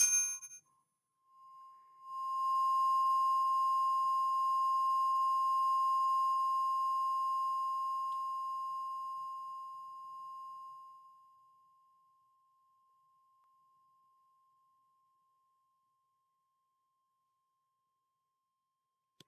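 A single struck 528 Hz tuning fork rings with a pure, steady tone that sustains for several seconds and slowly fades to silence.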